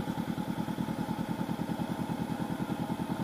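A brand-new 2019 Honda CB500X motorcycle runs in Shanghai, its engine giving a steady, close, rhythmic low thrum like a smooth idle, with no voices over it.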